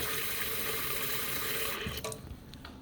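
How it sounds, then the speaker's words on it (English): Water pours steadily in a cafe kitchen onto a surface for cleaning, a loud, close, continuous splashing rush that cuts off near the end, leaving a few faint drips and clatters. "what we do is we pour a little bit on top and pour water on here"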